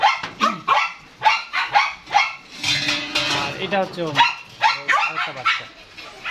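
Several dogs, a mother and her pup among them, bark repeatedly from a kennel in loud, sharp bursts close by, with someone talking over and between the barks.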